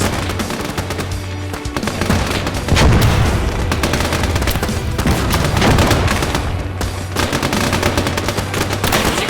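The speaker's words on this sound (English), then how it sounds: "the machine guns on the bridge are going to be very hard to deal with for the Reds" Machine guns firing on a bridge in the video game Army Men: War of Worlds, loud sustained bursts of rapid gunfire with heavy thumps and booms layered throughout.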